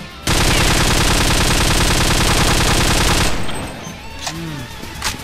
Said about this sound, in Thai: แล้วยิงเข้าเข้าเข้ามุมนี้